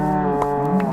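A cow in a video game gives one long, low, sustained moo, close and clear, with nothing else heard.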